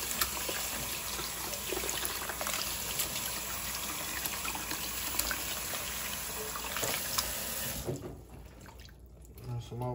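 Water trickles and splashes steadily as catfish meat is rinsed off in a sink or tub, a continuous wet wash that cuts off abruptly near the end, leaving quieter room noise.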